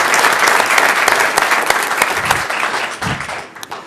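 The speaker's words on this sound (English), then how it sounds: "So let's give her a big round of applause." An audience at a Reno city council meeting applauds steadily for about four seconds, dense and fairly loud, thinning slightly toward the end.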